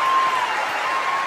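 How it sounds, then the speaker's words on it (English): Brief burst of audience applause for a singer, a dense even patter of many hands that holds steady and fairly close throughout. "Clap it for us."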